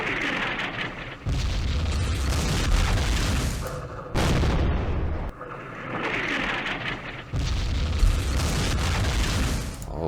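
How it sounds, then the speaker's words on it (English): Artillery fire in the Vietnam wargame Campaign Series Vietnam, Battle of Hue: heavy rumbling explosions in long rolling blasts separated by brief pauses, loud and booming. "Our artillery."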